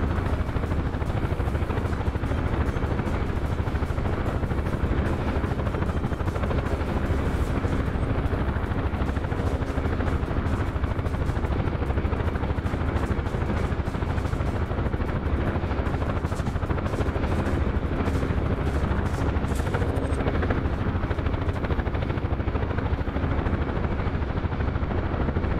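A UH-1 helicopter in a VR combat game flies steadily, its rotor chop and engine roar forming a loud, dense, unbroken wash that lasts throughout with no talking.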